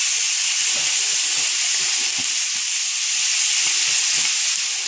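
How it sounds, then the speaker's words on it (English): Chili peppers fry in a pan with a steady, loud hissing sizzle that continues throughout, with small low bumps and taps from the pan underneath. "Now with the chili peppers frying in here"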